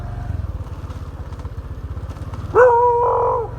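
A steady low engine chug runs throughout, then a single drawn-out dog bark or yowl cuts in near the end.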